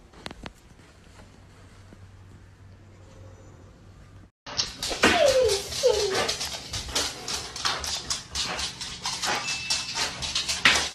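A shepherd husky mix dog whimpers and whines in a string of high, wavering cries that start abruptly after a quiet stretch and continue loud and close.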